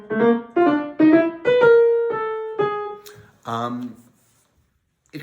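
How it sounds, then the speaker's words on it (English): A solo clarinet plays a lyrical melody of several sustained notes with short phrasing breaks, clear and close, ending with a lower phrase. "you hear it for the first time in the clarinet"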